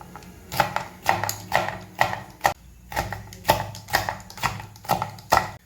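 A knife chops green vegetables on a board in a steady rhythm of sharp, close thuds, about two strikes per second.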